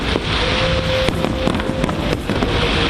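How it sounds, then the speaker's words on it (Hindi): Fireworks going off during a fountain show celebration, a rapid string of loud cracks and pops over a dense crackling roar, with no talk. "इतनी जोरदार आतिशबाजी शुरू हुई कि ऐसा लगा जैसे दिवाली मनाई जा रही हो।"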